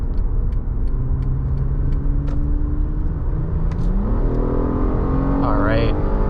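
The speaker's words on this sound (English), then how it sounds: "Try taking this car on the highway, see how it does." A 2014 Acura TL 3.7 SH-AWD accelerates onto the highway, its engine note climbing through the gears from inside the cabin with a rising rev sweep near the end, with road roar underneath.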